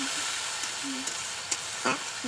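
Onions being stirred in a pan with a little water hiss and sizzle softly, with a few brief scrapes and clinks of the spoon up close.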